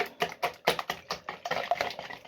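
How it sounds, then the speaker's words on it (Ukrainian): Four eggs beaten with a whisk in a bowl, a quick run of close, sharp taps and clicks in an uneven rhythm, with no voices. "Вбила я 4 яйця і збиваю"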